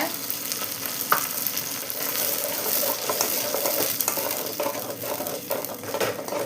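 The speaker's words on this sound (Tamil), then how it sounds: "எல்லாமே எண்ணெயில் வதக்கிடணும், சீக்கிரமாக பச்சை வாசனை போயிடும்" Tomato paste sautéing in hot oil for a Tamil fish curry gives a steady, loud, close sizzle, with occasional clicks and scrapes from stirring and no voices.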